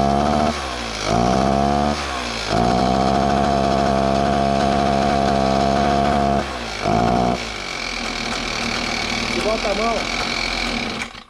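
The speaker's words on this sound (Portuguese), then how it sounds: "Vou acelerar um pouquinho aqui, pessoal." A 43cc two-stroke brush cutter with a clogged exhaust revs up loudly and drops back twice, each rev a sustained high buzzing whine, then settles to a rough idle while someone speaks over it.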